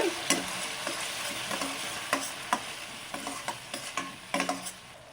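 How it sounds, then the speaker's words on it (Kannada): Puréed tomato fries on medium heat for paneer tikka masala, a steady close sizzle broken by repeated sharp spoon scrapes and taps against the pan, with no talking. "ಟೊಮೊಟೊ ಹಾಕ್ಕೊತೀನಿ. ಇದು ಸ್ವಲ್ಪ ಫ್ರೈ ಆಗಬೇಕು, ಮೀಡಿಯಮ್ ಉರಿಯಲ್ಲೇ ಇಟ್ಕೊಳ್ಳಿ."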